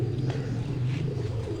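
A competition pigeon coos low and near in a soft, continuous rolling call over a steady background hum.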